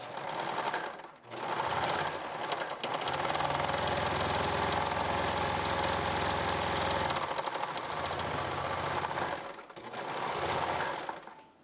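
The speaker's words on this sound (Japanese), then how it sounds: "次に持ち出しの端にロックミシンをかけます" Overlock serger finishing the edge of a trouser fly extension, running in loud, close, continuous bursts with a dense mechanical clatter and brief pauses between runs.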